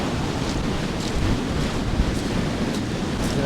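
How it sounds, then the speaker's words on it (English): Ocean surf breaking at Crackington Haven on the coast, a steady roaring wash of waves with some wind rumble on the microphone, continuous and fairly loud. "Some cracking waves here."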